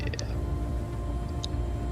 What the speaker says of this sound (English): it's definitely that top set hinge is slamming